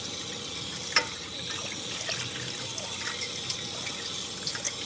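Tap water runs steadily into a sink while a cooking pot is rinsed clean in a home kitchen; a continuous, fairly soft hiss of flowing water with a few small clinks and splashes, and no talking.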